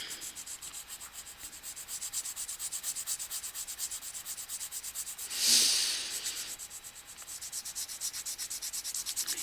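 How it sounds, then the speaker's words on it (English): A graphite pencil tilted on its side shades across paper while a chiseled-stone letter Q is drawn, giving a steady, close, scratchy rubbing that runs throughout, with one brief louder swipe midway and no talk. "Sometimes if you turn your pencil on its side, or more of like at an angle, like how I'm holding it now, you can also shade quickly using that"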